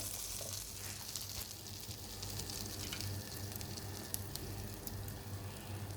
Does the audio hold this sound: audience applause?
no